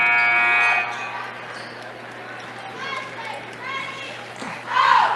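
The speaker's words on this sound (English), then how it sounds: "But that is the final buzzer here tonight for this girls game" A long electronic final buzzer blares at the start of a girls high school basketball game, followed by crowd chatter and voices echoing in a gym.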